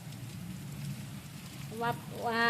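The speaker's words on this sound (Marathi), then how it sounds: "हे पहा, छान असा पाऊस चालू झालेला आहे." Rain falls on a farm field during the sowing season, a soft, steady patter at moderate distance, with a voice speaking briefly over it near the end.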